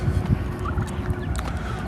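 Farm turkeys gobble repeatedly in bursty, warbling calls, fairly close and loud, with other birds faintly in the background.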